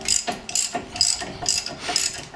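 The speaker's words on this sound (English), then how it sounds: "I used the swing arm to break loose those 18 millimeter" A ratchet loosens 18 mm head bolts on the front brake caliper of a 2011 Cadillac SRX, with steady rapid clicking in repeated bursts, loud and close, and nobody talking.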